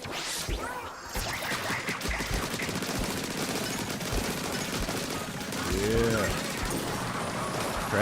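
Crab tank firing in the Splatoon video game: rapid, dense bursts of cartoonish gunfire crackling nonstop, loud and continuous, with voices faintly underneath.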